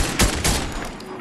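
Fortnite weapon fire during a match, two quick loud bursts of shots within a second over a steady game background.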